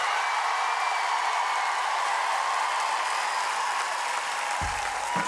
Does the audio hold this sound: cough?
no